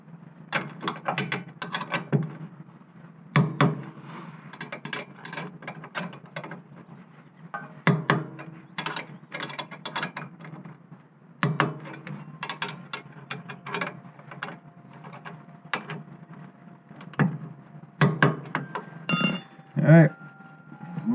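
Torque wrench ratcheting in repeated close bursts of sharp clicks while tightening to 83 pounds during a front tie-down and rear hitch receiver install, with short pauses between strokes.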